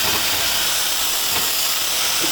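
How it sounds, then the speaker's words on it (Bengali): Chopped onion frying in hot oil, a loud, dense and continuous hiss of sizzling up close, with faint stirring underneath and no voices. "পেঁয়াজটাকে এখন তেলের সঙ্গে আমি ভালো করে মিশিয়ে নিচ্ছি মিশিয়ে হালকা একটু ভেজে নেড়ে চেড়ে ভেজে নেব"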